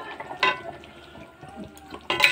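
Broth for a koi fish curry with cauliflower and potato bubbles softly in a pan, with a low simmer and two brief louder splashy bursts.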